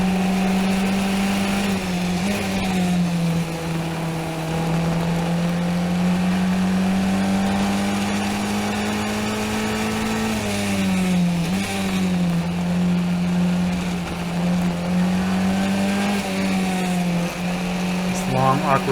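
An F1600 open-wheel race car engine heard from onboard through a long corner, with a loud, steady droning buzz that dips and rises as the driver upshifts from first to second mid-corner, then revs harder near the end.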